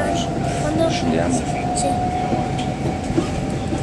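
A Trenitalia regional passenger train running on the rails near Mossa and Capriva, Gorizia, a steady rolling rumble with a sustained hum heard from inside, with people talking over it.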